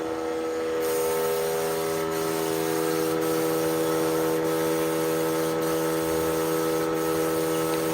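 A spray gun applying Kilz white chalk paint to a vintage armoire gives a steady, loud hiss of air and spray that runs without a break, with faint periodic dips.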